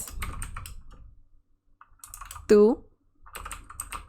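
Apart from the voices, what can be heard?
typing on a computer keyboard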